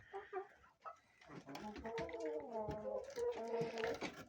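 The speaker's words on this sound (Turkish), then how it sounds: "Horozumuz." A rooster crows in a long, wavering call close by, following a few short clucks and squawks.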